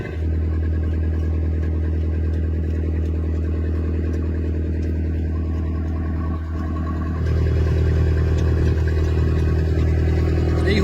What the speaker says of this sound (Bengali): এই যে ট্রলারের নিচের যে জল জমে থাকে সেটাকে পাম্প করে কিন্তু বাইরে বের করে দেওয়া হচ্ছে